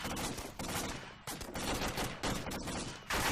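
Sustained gunfire during an infantry training exercise, with shots striking the front wall of a bunker, heard as dense, continuous cracks and bursts throughout at moderate level.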